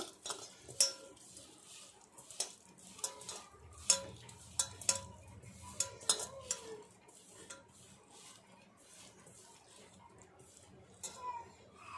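Green chilli pickle with oil and chilli powder stirred by hand, a spoon clinking and scraping against a vessel in a run of sharp, uneven taps and scrapes, close by.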